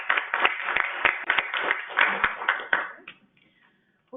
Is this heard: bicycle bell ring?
no